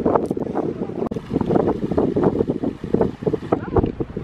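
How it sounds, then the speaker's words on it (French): Heavy wind on Holbox island, Mexico, buffets the microphone in loud, uneven gusts, producing a rumbling roar that drowns out everything else. "on n'entend plus du tout ce qu'on dit à cause du vent"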